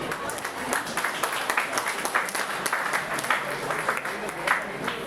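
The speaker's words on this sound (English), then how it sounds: "Ladies and gentlemen, a round of applause, please." An audience applauds at a college golden jubilee night, a steady patter of many hands clapping at moderate distance in a large gathering.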